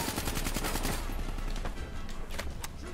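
Rapid automatic gunfire in the video game Call of Duty Black Ops 3, a dense rattling burst that is loud at first and then thins into scattered shots.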